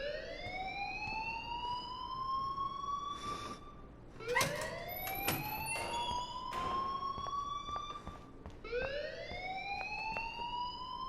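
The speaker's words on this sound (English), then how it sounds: "please turn off that alarm since that's your job." Repeated rising siren-like alarm wails from the Life Is Strange video game, several sweeping cycles looping loudly over a busy background with sharp clanks.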